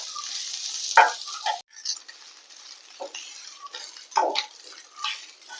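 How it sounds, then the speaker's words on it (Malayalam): Drumstick leaves cooking with egg are stirred in a pan, with a few scattered scrapes and clinks of the spoon against the metal over a faint, low sizzle, close by and intermittent. "മുരിങ്ങയില വേവാനും വാടാനും ഒരുപാട് സമയം വേണ്ട കുറച്ച് സമയം മതി നമുക്ക് നല്ലപോലെ മിക്സ് ചെയ്ത് കൊടുക്കാം"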